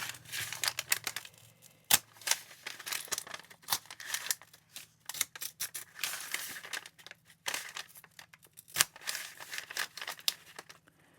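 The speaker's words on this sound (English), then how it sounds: "I will try to rip this. I don't think it's going to rip very easily." Thick journaling paper is slowly ripped and crinkled by hand, with irregular crackling, rustling bursts and a few sharper snaps spread across the stretch, close and fairly quiet.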